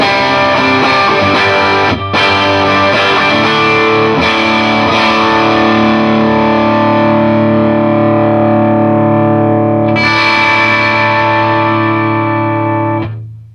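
An electric guitar is played through a Nobels ODR-1 overdrive pedal into an 8-watt Little Walter amp head, giving loud, sustained, crunchy chords with a few quick strums and a fresh attack near the end before the notes ring out.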